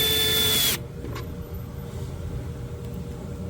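Power drill driving screws into custom cabinets, a brief high whine that stops after a moment, leaving a low room rumble and faint handling noise.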